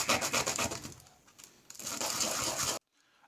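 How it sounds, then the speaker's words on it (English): Sandpaper rubs against a miniature's base in quick repeated strokes, close and fairly loud. There is a short quieter pause in the middle, and the sound stops abruptly near the end. "I'm going to use a bit of sandpaper, I think"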